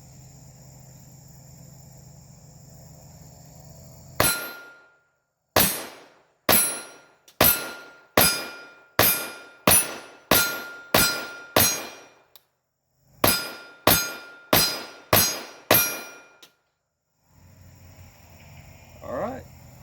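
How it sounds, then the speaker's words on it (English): A Taurus TX22 firing CCI Stinger rounds at a steel target about 10 yards away: about fifteen sharp, loud shots with ringing clangs, in two quick strings separated by a short pause, then quiet. "shooting at a steel target about 10 yards away"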